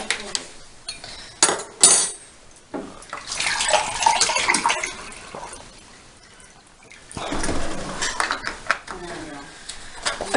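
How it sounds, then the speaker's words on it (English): Water pours and splashes into a glass bowl in two bursts, with light clinks of glassware; a voice speaks between pours. "we have the water and we pour it into the large glass bowl"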